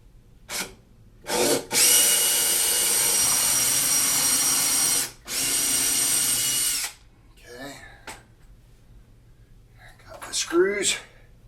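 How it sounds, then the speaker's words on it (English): A power drill bores a hole in a wooden vinyl record shelf, running loud in two long bursts after short spurts, with quiet whispered talk in the pauses. "and drill my hole."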